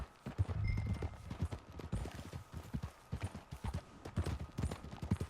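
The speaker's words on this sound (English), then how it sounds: "Get on your horse, John." Horse hooves clip-clop in Red Dead Redemption 2, a quiet rhythmic run of hoofbeats at a steady riding pace, with a brief snort or whinny-like sound near the start.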